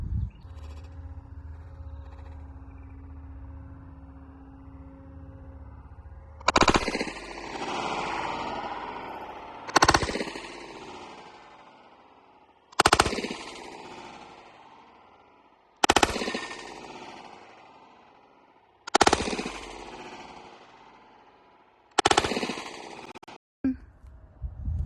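Six sharp, loud gunshots from a Hi-Point pistol ring out at uneven intervals of a few seconds, each followed by a decaying echo, after a quiet start.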